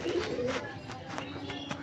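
Pigeons coo softly and repeatedly at close range, with several low, rounded calls pulsing through about two seconds over faint background noise.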